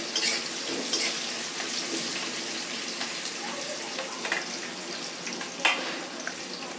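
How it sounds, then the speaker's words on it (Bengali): Onion fries lightly in a pan as the base for a pangasius fish curry, giving a soft, steady sizzle with occasional stirring scrapes and small clinks. "এখন আমি হালকা করে একটু ভেজে নেব"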